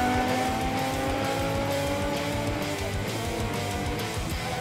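A rally car at full throttle on a Danish rally course, engine roaring continuously with rising and falling revs and tire noise, loud and steady, without speech.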